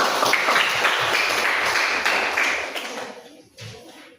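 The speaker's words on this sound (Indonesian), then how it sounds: "tepuk tangan buat saya" Clapping for a teacher in a classroom, a dense burst of many hands that stays loud before fading out near the end, with one brief closing flurry.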